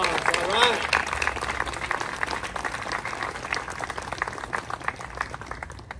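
Applause for Veterans Resource Center members at a Veterans Day event at Pasadena City College, a loud crowd clapping with a voice briefly over it early on, slowly tapering.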